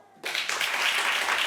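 A studio audience at a French-language Christmas family game show bursts into applause after a brief quiet start, then keeps clapping steadily and fairly loud, with a few cheers mixed in.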